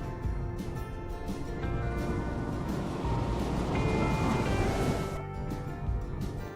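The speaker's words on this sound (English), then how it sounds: "I put the sound of ocean waves with pirates" Ocean waves wash steadily as an added sound effect with a pirate theme, a continuous broad surf roar that swells slightly midway, with no talking.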